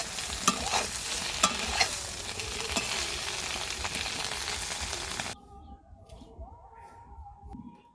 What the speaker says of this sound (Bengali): আমি একটু হালকা করে ভেজে নেব